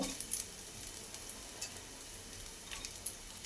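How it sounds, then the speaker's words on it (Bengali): Rice for fried rice stirred in a pan, a faint steady frying hiss with a few soft scraping taps, quiet and close, no voices. "প্রথমে কিছুটা ভাত দিয়ে নাড়াচাড়া করে নেবার পর আবারও কিছুটা ভাত দিয়ে দেব"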